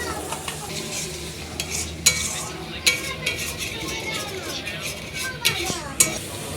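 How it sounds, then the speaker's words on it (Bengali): Masala paste being fried and stirred in a pan, a continuous sizzle with frequent metal spoon scrapes and clinks against the pan, close and busy throughout. "মশলাটাকে এখন আমি ভালো করে কষিয়ে নেব তো অল্প একটু জল দিয়ে দেবো মশলাটা যাতে তোলায় না লেগে যায়"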